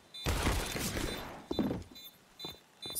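A rapid burst of gunfire in a Counter-Strike match on the Inferno map crackles up close, followed by a few scattered shots spaced apart.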